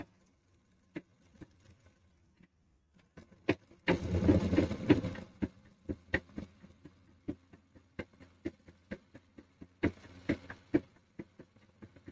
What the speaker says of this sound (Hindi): तो अब हम इधर साइड में भी पैरिक सिलाई लगाते हैं